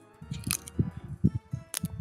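A voice imitates a spider from a Pathfinder 2 tabletop session, clicking its teeth together in a rapid irregular run of close, dry clicks and mouth noises.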